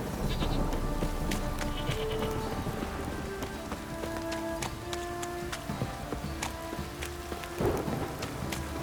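Steady rain in The Witcher 3: Wild Hunt patters densely throughout, with scattered sharp drips and a brief louder rumble near the end; no one speaks.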